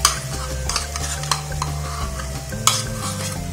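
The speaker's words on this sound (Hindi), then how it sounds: "मसाला को अच्छे से मिक्स कर दीजिए इसको आलू में" Spiced mashed potato filling with red chili powder and salt gets stirred in a pan for aloo paratha, scraping spoon strokes with a light sizzle and a few sharp clinks, close and steady.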